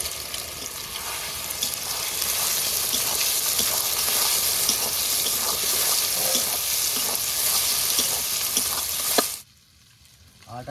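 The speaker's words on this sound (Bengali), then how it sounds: "এবারে সোয়াবিনটা ভেজে নেবো" Soaked soybean chunks frying in hot oil, a loud, steady crackling sizzle with occasional stirring, up close, lasting most of the stretch before cutting off abruptly into near silence.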